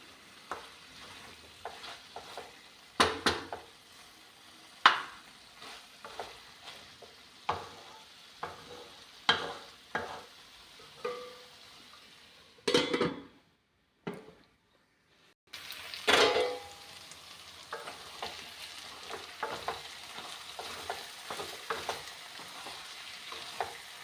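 Dried fenugreek leaves (kasuri methi) stirred into frying green vegetables, with soft sizzling under repeated spoon scrapes and clinks against the pan, quiet and close, with a brief silent gap midway.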